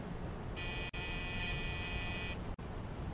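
A flat electronic buzzer from a video game sounds once, steady and loud for about two seconds, over constant background noise.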